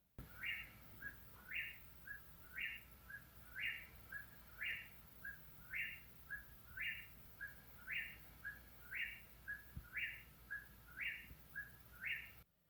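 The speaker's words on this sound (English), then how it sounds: "I recorded a little bit of the bird chirping" A single bird outdoors repeats a short, bright two-part chirp about once a second, evenly spaced and fairly distant over a quiet background hum, with no talking.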